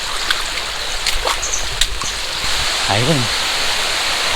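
Flowing stream water and a small waterfall in a forest camp setting, a steady broadband rush throughout with a voice speaking briefly over it.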